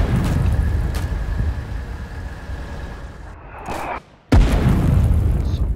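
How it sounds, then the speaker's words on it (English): Tanks being bombed in the war game Foxhole, heard as a continuous heavy rumble of explosions with dense low booms, a brief drop-out, then more loud blasts. "Yeah, they're just bombing these tanks, bro."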